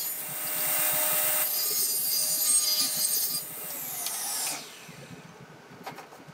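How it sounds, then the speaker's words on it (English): A bandsaw cuts partway through a wooden piece with a steady, whining blade drone and a faint rasp that holds for several seconds, then winds down, leaving a few light knocks. "I was able to run it through the bandsaw later, as you'll see, and just cut a little bit in the middle"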